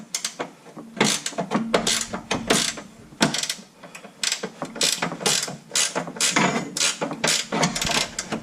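A ratchet cranks on a very tight bolt on the panhard bar of a third- or fourth-generation Camaro, giving loud, close bursts of rapid clicking that stop and start over several seconds, with no talking.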